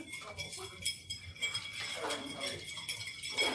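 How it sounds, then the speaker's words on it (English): Ice cubes are dropped gradually into a Sazerac cocktail as it is stirred, making irregular light clinks and rattles against the glass and spoon, close up and fairly quiet, with faint voices in the background. "are going to gradually add ice cubes while you're stirring"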